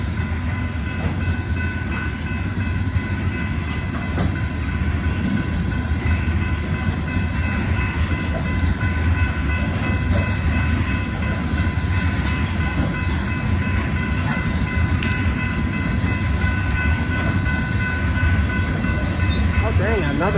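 Steady low rumble and rattling of BNSF freight train cars rolling past close by, continuous for the whole stretch with faint clatter and a high whine.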